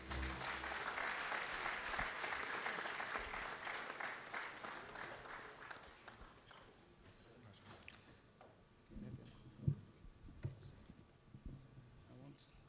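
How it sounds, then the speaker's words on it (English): Audience applause at an evening event with Nigeria's Vice President, dense clapping for about six seconds that thins out and fades, followed by a quieter room with scattered knocks and shuffling. "A round of applause"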